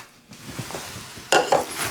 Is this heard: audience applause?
no